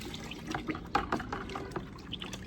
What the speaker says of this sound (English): I'm just gonna rinse this part out real quick.